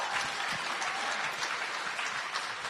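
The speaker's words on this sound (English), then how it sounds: "Round of applause for Joanna." Applause from a conference audience at a progress summit, a steady, even roar of many hands clapping at moderate distance, without speech.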